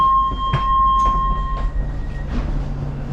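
A DLR light rail train on the London City Airport line rolls along with a low rumble, sharp clicks of the wheels over track joints and faint high tonal whines.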